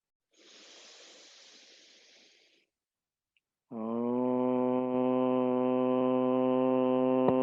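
A long sustained 'om' chanted by a voice during a guided meditation, a steady humming tone held for several seconds after a soft breathy exhale, close and alone.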